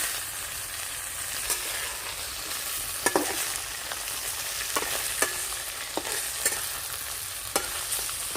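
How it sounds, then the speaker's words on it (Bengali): Pabda fish fry in hot oil with whole cumin, nigella seeds and dried chillies in a village kitchen, a steady close sizzle broken by occasional stirring scrapes and small pops. "গোটা জিরে কালো জিরে দিয়ে দেব মাছগুলো"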